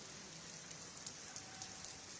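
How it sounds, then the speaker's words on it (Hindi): Heavy rain falling in Delhi-NCR, a steady, even hiss of rain on surfaces with a few faint drop taps, continuous and fairly quiet, with no voices. "अभी भी क्या बारिश हो रही है और कैसा है मौसम?"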